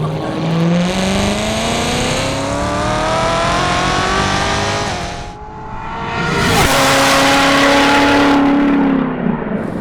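A Hennessey-modified Chevrolet Corvette C7 ZR1 sports car engine revs hard through rising gears, roaring close and loud, dips briefly, then surges again with a strong whine.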